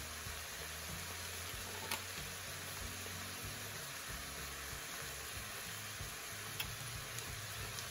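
Ground beef browns in a pan, with a faint, steady sizzle and hiss and a few soft clicks, heard alone without talk.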